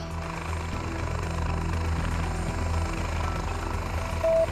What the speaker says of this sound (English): He's descending onto the rooftop helipad of the LGI.